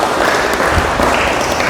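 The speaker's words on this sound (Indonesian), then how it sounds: "Tepuk tangan buat Mas Ahlul." Loud, dense clapping from an audience at an Islamic lecture at a campus mosque, a continuous close wash of many hands throughout.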